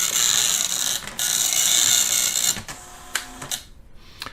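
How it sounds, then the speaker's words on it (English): A dot matrix printer runs a print test with its cover off, a loud rattling buzz of print head and mechanism in bursts, then sparse clicks and short mechanical rasps as it slows and stops. "Now at this point you can see the printer is actually doing the print test"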